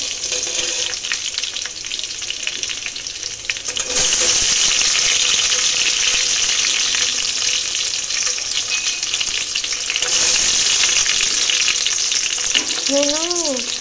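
Tomatoes going into a pan of frying veg biryani masala, a steady loud sizzle that swells as they hit the hot oil and is stirred, with a short squeaky scrape of the spoon near the end.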